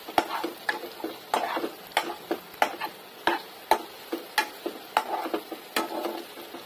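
Egg fried rice being stirred in a pan, a spatula scraping and tapping in a regular beat over a faint sizzle, close and with no voices.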